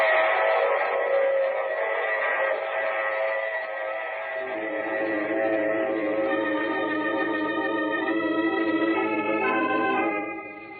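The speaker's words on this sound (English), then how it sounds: "I take this same train every week at this same time" Train sound effect in an old-time radio drama: a steady mechanical rumble with a sustained, whistle-like harmonic tone that swells and holds for several seconds, then fades out at the end, with no voices.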